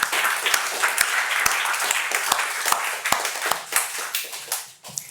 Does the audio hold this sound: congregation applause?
yes